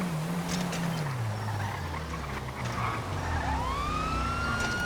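Police car siren wailing continuously, its pitch sliding and sweeping, fairly loud over a steady rumble of street and traffic noise.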